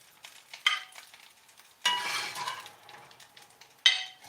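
Harsh metal scraping in a cast iron skillet comes in three bursts, the middle one long and loud, with a faint sizzle and clinks between, while cooking liver and onions.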